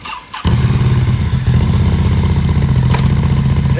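A Ducati Hypermotard 950 SP motorcycle engine fires up after a brief quiet moment and settles into a loud, steady, throbbing idle close by, with no one speaking.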